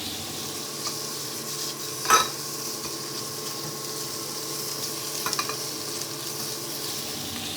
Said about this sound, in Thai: ผัดกุ้งใช้ไฟแรงได้เลยนะครับ เราใช้เวลาผัดไม่นานครับ